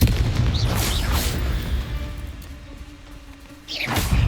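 Confringo spell explosion in the video game Hogwarts Legacy, a loud booming blast with a sustained roar that fades out before another burst of noise returns at the end.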